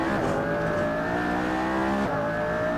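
A race car engine revs hard on a hot lap, climbing up through the gears after a slow second-gear corner. The rising, loud, close engine note carries on without a break.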